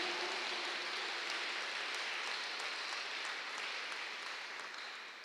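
A church congregation applauds at a faint, distant level, a dense steady patter of clapping that fades slightly toward the end.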